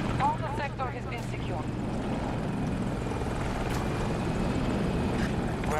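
Jet aircraft roaring past in a battlefield video game, a steady loud engine drone with a brief swooshing pass near the start, under a person talking over it.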